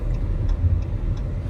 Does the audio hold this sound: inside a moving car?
yes